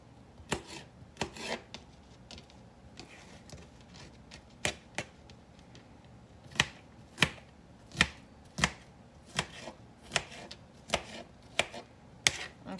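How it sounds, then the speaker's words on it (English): Knife chopping a cucumber with the peel left on, on a cutting board: crisp, close taps, sparse at first, then settling into a steady rhythmic series, with no talking. "Okay, let me get all this cucumber cut up"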